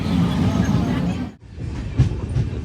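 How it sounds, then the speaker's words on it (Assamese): Passenger train running on rails, with a loud, steady rumble and rattle of the carriages heard from on board, then a brief dip and a return of the clattering roll. "ট্ৰেইনত আহি গ'লোঁ।"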